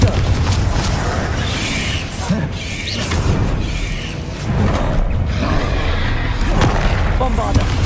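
A Confringo spell explosion in Hogwarts Legacy on PS5 booms loudly amid a crowded mix of crashes and creaking effects, with voices calling out during the fight.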